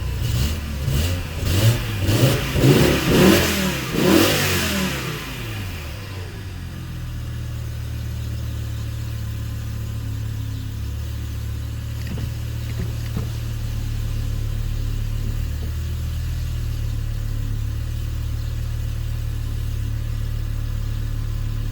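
BMW E60 M5 engine after new ignition coils: a few sharp rising revs up front, then a smooth, even idle that hums on steadily and close for the rest, with no voices.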